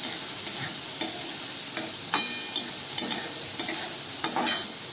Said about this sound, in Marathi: आता एक छान आपल्याला परतून घ्यायचा आहे कांदा.